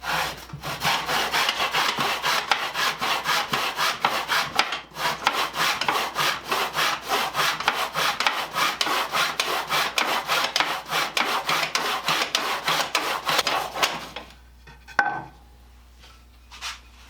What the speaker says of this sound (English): I like this Stanley miter saw.